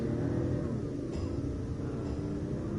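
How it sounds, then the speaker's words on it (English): A car engine hums and revs in the Final Fantasy XV video game, a steady mid-pitched drone with a slight rise, moderately quiet and continuous with no talk. "I really wish you could lower the car sound and hear the beautiful Final Fantasy 7 instead."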